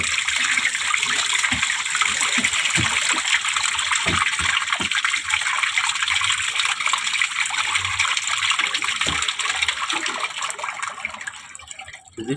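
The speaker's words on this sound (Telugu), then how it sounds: "ఇది స్పిన్ వాటర్ వస్తుంది అన్నమాట" Spin-cycle water gushes out of a washing machine drain hose, a loud, continuous splashing pour close by that tapers off slightly toward the end.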